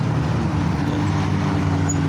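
A Volkswagen Jetta with an upgraded bigger turbo, its engine a steady close rumble over continuous road and traffic noise, with no voices.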